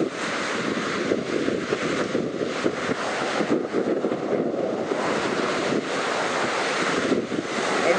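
Ocean waves crash on an eroding beach at Washaway Beach, Washington, a continuous surging roar heard from a distance, with heavy wind buffeting the microphone throughout.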